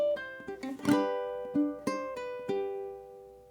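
Solo ukulele playing a slow blues passage: plucked single notes and chord strums with quick decays, a few brighter strums standing out, close and clear, no talking.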